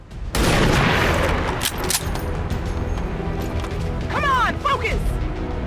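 Gunfire in the XCOM 2 video game: a loud burst of shots and impacts opens, trailing into rumbling crashes and mechanical clatter, with a brief voice-like chirp near the end.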